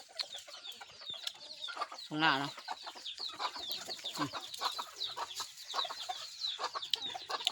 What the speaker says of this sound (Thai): เสียงไก่พี่น้อง ไก่มันหยาดกิน